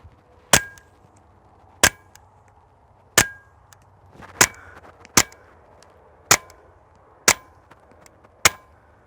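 A Dead Air Primal suppressor on a rifle firing .22 subsonic rounds, producing eight sharp, evenly spaced cracks about a second apart, each a brief loud snap with a short ringing tail and quiet between shots.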